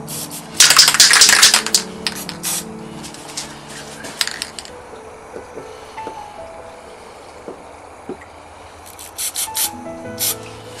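An aerosol spray can hisses onto a moon painting in one quick burst near the start, followed by quieter rubbing and handling sounds, with a few more short hisses at the end.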